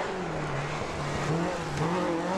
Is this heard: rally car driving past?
yes